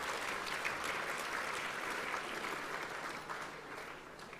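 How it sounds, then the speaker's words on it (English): Audience applause at a VFL football awards night fills the room with dense, steady clapping from a large crowd, continuous throughout and tapering off slightly at the end. "Please join me in giving them a very warm round of applause for making it through."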